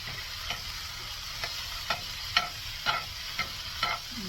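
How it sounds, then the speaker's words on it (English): Vegetables sizzling in a cast iron pan with a steady frying hiss, punctuated by regular scraping clicks of a utensil stirring roughly every half second. "Just stir it up in the meantime."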